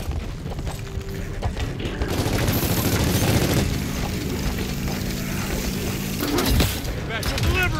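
Gears of War 4 gameplay combat fills the scene with dense, continuous gunfire and booming impacts, loud and close, while voices shout over the battle.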